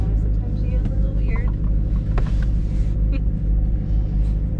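A Chevrolet Corvette drives along with a steady low engine rumble and road noise filling the cabin, close and continuous, with brief scattered sounds over it and no clear speech.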